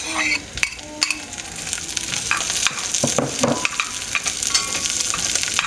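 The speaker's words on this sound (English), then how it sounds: "I am adding the sausage, and I'm going to get it all heated up" Sausage heats in a pan for a cheesy potato soup, loud steady sizzling with repeated sharp clinks and scrapes of a utensil stirring against the pan.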